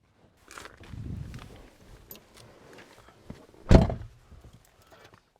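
2017 Skoda Fabia 1.0 TSI car door shut with a single heavy thunk late on, preceded by quieter rustling and handling sounds, no talk.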